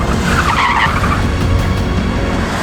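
A Mercedes-AMG E63S drifting with no driver aids, its rear tires skidding in a loud sustained squeal over a steady engine roar that holds for the whole stretch.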